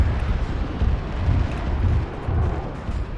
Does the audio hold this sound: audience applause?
no